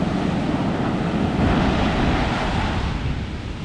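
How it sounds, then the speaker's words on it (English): Ocean surf breaking close by at a beach, a loud, continuous wash of waves with a slight swell near the middle and wind buffeting the microphone. "As soon as I get closer, there's a bigger wave."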